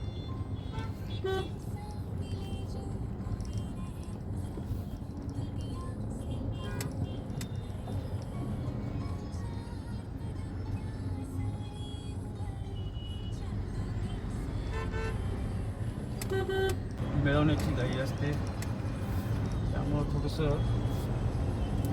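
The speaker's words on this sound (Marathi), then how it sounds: "इथून आपल्याला हायवेला जोडली जाते त्याच्यामुळं इथं थोडंसं ट्रॅफिक होतंच" Steady road traffic rumbles throughout on a bridge near a highway junction, with engines passing and a few short horn toots, voices talking over it.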